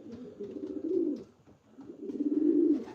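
Pigeons in a loft give soft, low cooing in two rolling bursts with a brief pause between, close and fairly quiet, with no voices.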